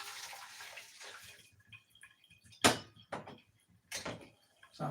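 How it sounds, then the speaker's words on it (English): Boiling water is poured from a kettle into a pan on a kitchen hob for cooking fish, coming in short, separate splashing gushes amid quieter clatter. "I'm going to pop in my boiling water."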